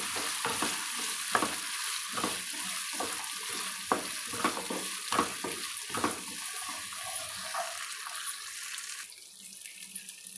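Ivy gourd pieces and green grapes frying in a pan with dried red chillies, a steady close sizzle broken by repeated scraping stirs, easing toward the end.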